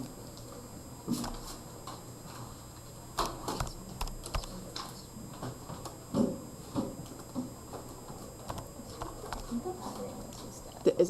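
Keys tapped on a handheld calculator to enter an expression in a maths classroom, a run of irregular close clicks and taps with occasional louder knocks, a voice speaking intermittently underneath.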